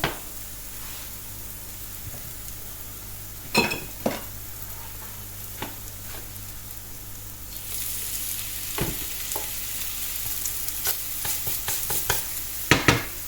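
Crushed garlic fries in oil in a pan for stir-fried pad thai-style konjac noodles, giving a steady close sizzle that grows into a brighter hiss partway through, with a few sharp clinks and stirring knocks.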